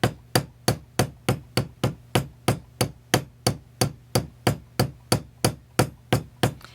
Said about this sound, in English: lightly tap on the outer edge of the tube